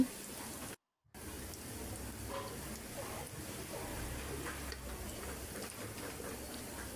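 Spices frying in oil in a pan for a Bengali pangas and tilapia fish-head dish, a steady, faint hiss and crackle with a brief dropout near the start.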